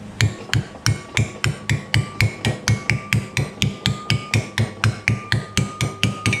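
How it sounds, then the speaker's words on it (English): A ball peen hammer strikes a sheet metal patch on a Plymouth in a garage, a fast, even train of sharp metallic blows, about three each second, close and loud, with no talking. "Ball peen hammer."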